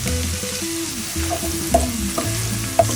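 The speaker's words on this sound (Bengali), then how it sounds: "আদা রসুনের কাঁচা গন্ধটা চলে যাওয়া পর্যন্ত আমি এটা সুন্দর করে আস্তে আস্তে ভাজবো" Chopped onion with ginger-garlic paste fries in a pan, a close steady sizzle with spatula stirs and a few sharp scrapes, no talk over it.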